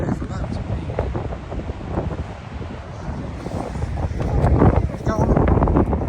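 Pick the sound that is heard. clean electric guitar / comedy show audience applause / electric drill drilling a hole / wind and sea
wind and sea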